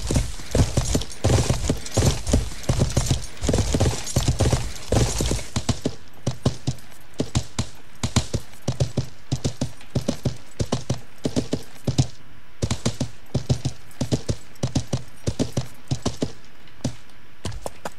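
Horse hooves clip-clopping during riding in the medieval game Life is Feudal. A steady, rhythmic stream of close hoof clops continues throughout, busier and denser at first, then evenly paced.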